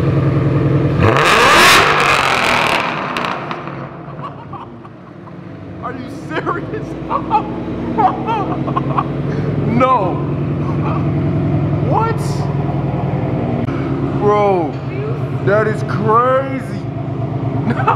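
Ford Mustang GT with newly fitted long-tube headers cranks and fires up, a loud engine roar at the start that settles into a rumbling idle while people talk and exclaim nearby.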